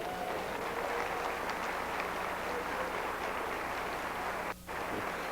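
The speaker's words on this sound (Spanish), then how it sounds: "Denle un aplauso al Señor, pues." A church congregation claps at a sermon, a soft, distant wash of steady applause with a low hum beneath and a brief dip near the end.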